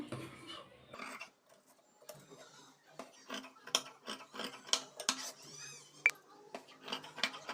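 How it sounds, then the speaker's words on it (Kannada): Scissors snip through a piece of blouse fabric during tailoring work, making a string of close, crisp clicks and short cuts in an uneven rhythm, with quiet gaps between some of them. "ಈಗ ಈ ಎಕ್ಸ್ಟ್ರಾ ಪೀಸ್ನ ಕಟ್ ಮಾಡ್ಕೋಬೇಕು"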